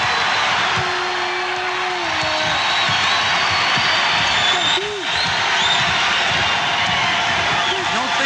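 Crowd noise from a 1983 Tennessee versus Kentucky college basketball game, a steady loud roar of fans swelling throughout under broadcast ambience, with occasional shouts rising above the din.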